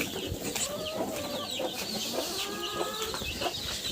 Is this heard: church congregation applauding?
no